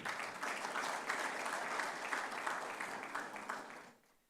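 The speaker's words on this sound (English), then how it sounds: "And can we have a round of applause for them?" Audience applauding media partners at a manufacturing summit and awards ceremony, steady clapping from a large crowd lasting about four seconds before tapering off quickly.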